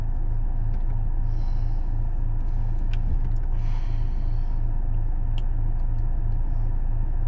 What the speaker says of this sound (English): where the heck this truck thinks it's going